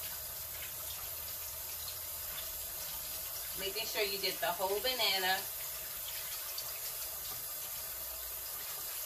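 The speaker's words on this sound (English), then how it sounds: "So I'm just washing the bananas off, guys." Tap water runs steadily into a sink while bananas are washed with soap, a continuous rush of moderate loudness with a voice talking over it briefly in the middle.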